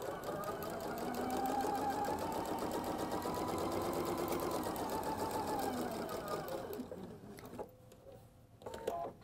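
A sewing machine stitches a quarter-inch seam on a flying geese quilt block, a steady close mechanical hum with rapid needle rhythm for about seven seconds, then stopping into a few soft clicks.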